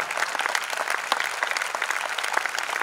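Steady applause from an audience after a performance by a Sienese town marching band, a dense, even wash of clapping that holds from start to end with no talk.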